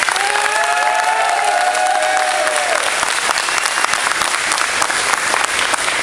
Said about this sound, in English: I would like to also give a round of applause to our family members